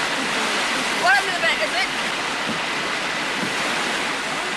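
Whitewater rapids rush on the Nymboida canoe slalom course in Australia as a steady, broad roar of churning water, with a brief voice rising over it partway through.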